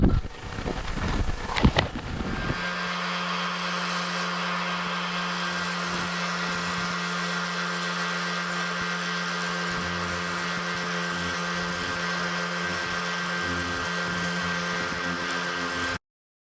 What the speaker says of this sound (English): I let the sander do the work.